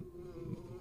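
Buzz Buzz the bee from the Earthbound video game, giving a short, steady insect buzz that stays near and fairly faint for under a second.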